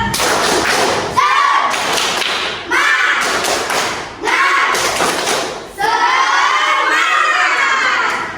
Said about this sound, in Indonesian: Sebelumnya tepuk semangat.